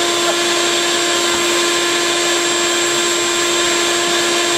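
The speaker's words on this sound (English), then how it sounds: "The vacuum is a little slow in some ways, but you save the most bees." A bee vacuum sucking bees out of a hive built between the floors of a house, a loud constant motor whine with a steady pitched hum and rushing air, close up and unbroken, with no talk.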